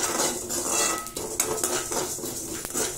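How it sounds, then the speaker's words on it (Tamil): Rice dry-roasting in a pan for Kanyakumari-style idli podi, with a utensil scraping and stirring continuously in a dense clatter of metal on metal, close and steady with no talk. "நல்ல பொரிஞ்சு வரணும் அரிசி நல்ல பொரிஞ்சு"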